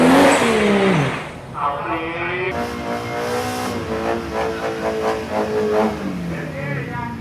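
A stanced car launches down a drag strip, its engine screaming up through the revs with rapid gear changes, loud and close, while a voice speaks over the run.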